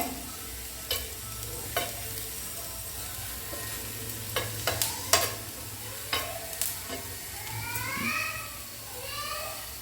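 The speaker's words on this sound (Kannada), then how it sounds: "ನೋಡಿ ಹಸಿಮೆಣಸಿನ್ಕಾಯಿ ಎಲ್ಲ ಎಷ್ಟು ಚೆನ್ನಾಗಿ ಫ್ರೈ ಆಗ್ತಾಯಿದೆ ನೋಡಿದ್ರ" Green chillies fry in hot oil in a pan for a brinjal curry. A steady sizzle runs under occasional stirring scrapes and clinks, with a voice talking nearby.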